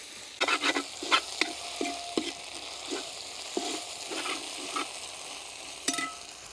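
Onion frying in a pan as ginger garlic paste goes in for a black chicken curry, with a soft steady sizzle under repeated close stirring scrapes.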